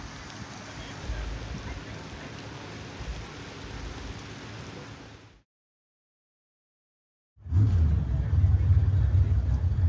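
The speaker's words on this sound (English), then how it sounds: "now rain again" Heavy rain pours as a steady broadband hiss, breaking into a few seconds of near silence before returning louder with a deeper drumming rumble, as if falling on a car roof.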